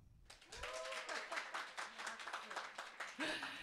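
An audience claps at a live business presentation, a soft, steady patter of hands with a voice heard over it.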